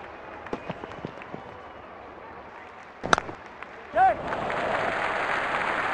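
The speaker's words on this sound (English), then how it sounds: "Crowd going mad here." A Major League Cricket crowd erupts in cheering and applause during a 2023 match, with scattered claps and crowd noise, then a sharp burst after which broad roaring cheers swell and hold steadily to the end.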